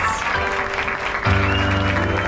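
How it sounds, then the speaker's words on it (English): Audience clapping in Temple Hall at Disneyland Park for Princess Belle after a Beauty and the Beast show, steady applause with a sustained musical tone swelling up partway through. "please give a round of applause for Princess Belle!"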